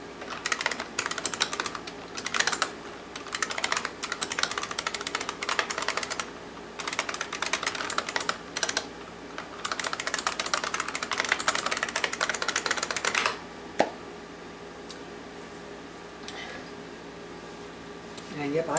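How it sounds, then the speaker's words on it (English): A restored December 1989 IBM Model M keyboard clacks under fast typing, its buckling-spring keys firing in dense bursts of loud clicks separated by short pauses, with a few isolated keystrokes near the end. "I typed that whole channel URL in right there"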